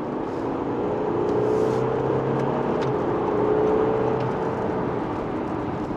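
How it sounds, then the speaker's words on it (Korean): A deep, heavy engine drone from an Audi A6 50TDI diesel six-cylinder under acceleration, heard from the cabin, rising in pitch across the pass with a mild swell in loudness, continuous and uninterrupted by speech. "이거는 뭐 가솔린 6기통에서도 잘 나지 않는 디젤 6기통만의 특권이라고 볼 수 있는데,"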